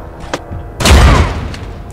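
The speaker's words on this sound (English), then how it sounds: "So I'm just going to chuck the grenade at them anyway." A grenade explosion in the video game Mutant Year Zero bursts with a heavy, booming low thud, preceded by a brief sharp pop, then rumbles and decays over the next second.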